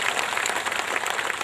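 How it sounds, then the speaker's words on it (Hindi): A crowd at a political rally in Bahraich, Uttar Pradesh, claps to welcome a legislator: dense, continuous applause, loud and unbroken for the whole moment. "जोरदार ताली बजा के आप स्वागत करिए"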